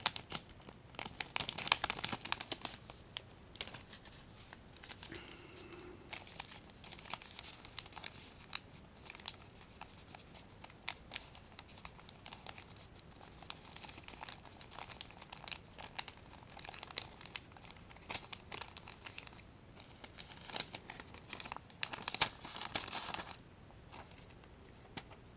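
Guitar string packaging is opened up close in a quiet room, with soft, irregular crinkling, tearing and rustling that come in bursts across the whole stretch, louder at the start and again near the end.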